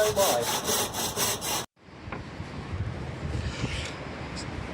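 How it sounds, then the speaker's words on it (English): Hand sawing a piece of wood on a makeshift bench, loud rhythmic back-and-forth saw strokes for about a second and a half, then a sudden stop into quieter rustling and handling noise. "So this is Joe sawing this piece of wood Badly"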